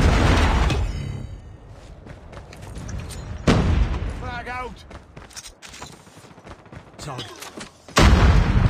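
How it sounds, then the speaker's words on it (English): Explosions and gunfire in the Call of Duty video game around a Predator missile strike: heavy booming bursts strike at the start, midway and near the end, between dense firing, with a brief spoken word. "Predator missile inbound."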